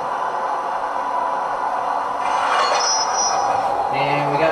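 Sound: model train running on track

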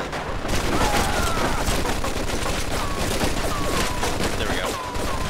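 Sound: machine gun fire in video game Mafia 2

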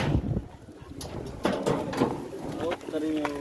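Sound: pigeons cooing

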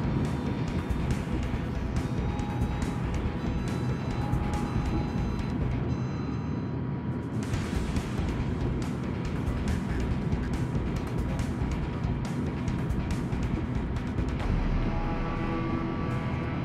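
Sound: warship engine boost in a naval video game

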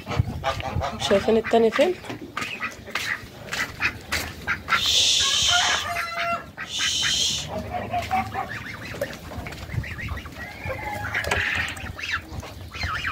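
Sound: ducks calling

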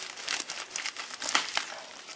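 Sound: cutting packaging tape on a box with scissors

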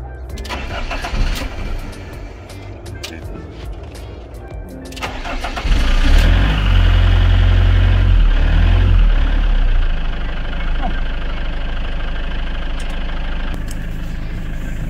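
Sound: camper engine starting and idling

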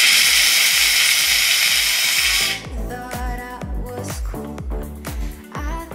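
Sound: McCulloch steam cleaner steaming at full pressure

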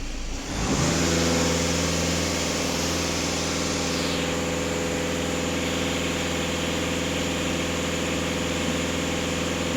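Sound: Volkswagen Scirocco TDI diesel engine revving

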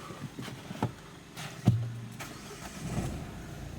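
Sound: Renault Megane 3 1.5 dCi diesel engine starting and running

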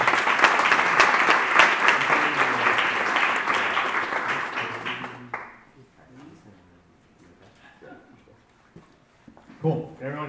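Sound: audience applause

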